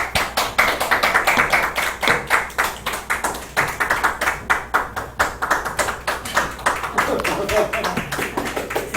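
An audience at a Bible class claps in a steady rhythmic beat as a speaker comes forward, loud and close, with voices talking over the clapping.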